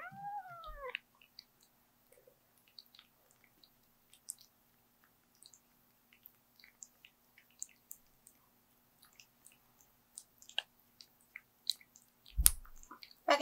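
Kitten eating food, with soft intermittent chewing and licking clicks close by in a quiet room, a brief meow-like cry at the start and a louder bump near the end.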